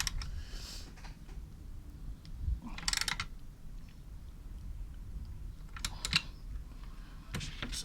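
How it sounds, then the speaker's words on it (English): Faint clicks and short metallic ratcheting bursts come from a 6mm hex tool tightening the exhaust bolts on a KTM 390 Duke motorcycle, in several scattered bursts close by. "I'm just tightening it back up now using the 6mm hex."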